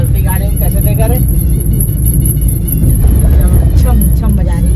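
Inside a moving car, a steady low engine and road rumble runs throughout while people talk over it in Hindi, with voices close and prominent above the hum.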